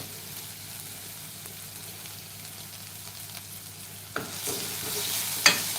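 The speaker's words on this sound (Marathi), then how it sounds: "आता एक मिनिटभर आपण सुकट चांगली परतून घेऊया" Dried fish (sukat) sautéing in a pan for a Marathi sukat batata rassa, a low steady sizzle with soft stirring scrapes and a couple of sharper clinks near the end, no voices.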